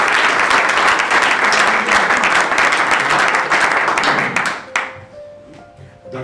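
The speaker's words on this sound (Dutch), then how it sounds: "Nogmaals, graag een applaus voor onze gastspreker." An audience applauds at a New Year's reception, dense clapping filling the room loudly for several seconds before thinning out and stopping.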